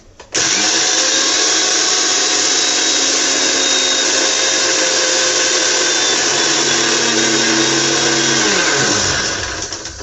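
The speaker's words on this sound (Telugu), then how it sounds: "పంచదార అయితే మిక్సీ వేస్తున్నాను అనమాట" A mixer grinder grinding sugar starts abruptly and runs with a loud, steady motor whine, then winds down at the end as the blades slow.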